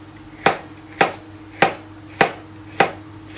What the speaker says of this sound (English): then I'm gonna have to slice it into thin slices.